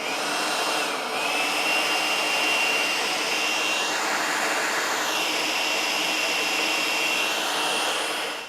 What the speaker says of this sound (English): Fans can be pretty high current draw devices.